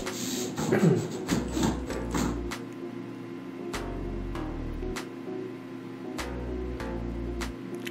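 A power screwdriver drives screws into mezzanine floor boards in short bursts of low motor whir, each a second or two long, with sharp clicks and taps between them, close and steady.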